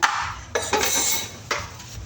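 Dishes and plates being washed at a kitchen sink: a few close clinks and clatters of plates and utensils over a short stretch of faint running-water hiss, with no talking.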